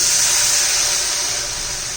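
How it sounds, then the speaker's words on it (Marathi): A loud, steady hiss of water hitting a pan of hot cooked vegetables, fading slightly over two seconds. "त्यात आपण आता पाणी घालून घेऊया"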